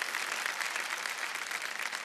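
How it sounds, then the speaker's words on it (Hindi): Studio audience on the Kaun Banega Crorepati game show clapping in a dense, steady burst of applause, loud and continuous from start to finish. "ताली बजा दीजिए।"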